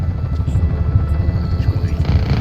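A helicopter's rotor chops steadily over a low engine rumble in the video game Just Cause 3, loud and continuous, with faint game-like effects layered on top.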